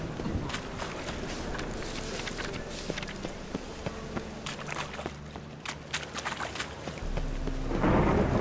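Steady rain with rolling thunder in a city during a The Witcher 3: Wild Hunt game session, a continuous loud downpour with deep rumbles swelling toward the end, no speech over it.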